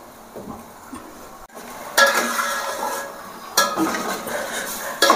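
Large potato pieces being stirred in a pot of boiling water for biryani: scraping and clinking of a spoon against the pot in several bursts over a low bubbling background, with no talk.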